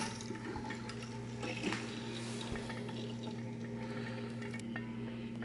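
A Robobrew V3 brewing system's pump recirculates wort, giving a steady low electric hum with a soft trickle and gurgle of flowing liquid, close and quiet, no voices.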